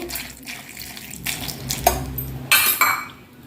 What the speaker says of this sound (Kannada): ಈಗ ಇದಕ್ಕೆ ನೀರು ಹಾಕಿ